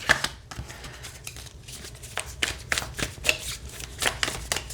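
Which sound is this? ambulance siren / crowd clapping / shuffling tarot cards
shuffling tarot cards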